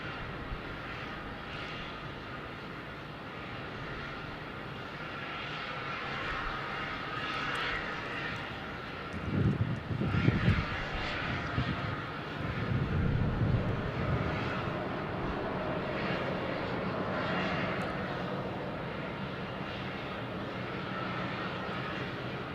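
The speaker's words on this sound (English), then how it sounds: "So I think this is our 757-200 next" A Boeing 757-200 arrives at Phoenix Sky Harbor, its engine roar a steady distant drone that swells briefly mid-approach before settling back to a continuous hum.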